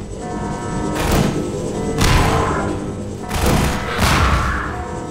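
Gunfire in the video game Half-Life 2: Episode Two sounds as several heavy, booming shots at roughly one-second intervals, loud and close, with noisy decaying tails and no talk over them.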